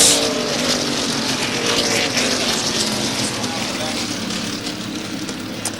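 Race cars circling Thompson Speedway during the 1996 World Series after a spin in turn one, a steady dense engine roar and rumble filling the whole stretch with fairly even loudness and no clear speech.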